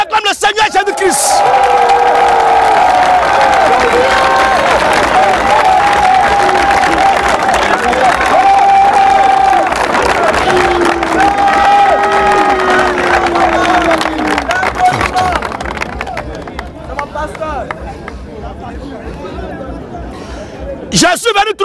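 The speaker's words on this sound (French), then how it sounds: "On acclame le Seigneur Jésus-Christ" A Christian revival gathering erupts in loud crowd cheering and clapping to acclaim Jesus Christ, with voices chanting and shouting over the roar before it fades into quieter murmuring.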